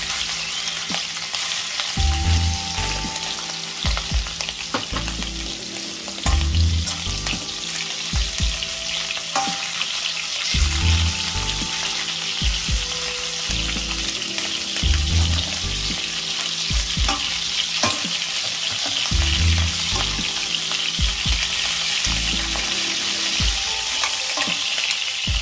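Prawns (chingri) dusted with turmeric fry steadily in a hot pan for a Bengali malai curry, a continuous loud sizzle broken by repeated rhythmic scraping and stirring strokes, with no talk.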